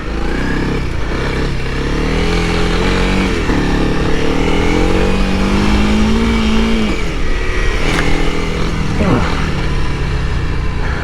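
A Honda CRF300L dual-sport motorcycle is ridden off-road, its engine loud and close, rising and falling as the throttle opens and eases, with wind noise over the ride.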